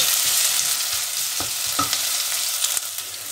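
Spinach and potatoes frying in a pan for aloo palak: a close, steady sizzle with a few light stirring scrapes and clinks and no talk.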